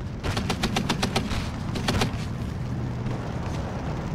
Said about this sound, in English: The half-track sees the flamethrower, starts shooting at it.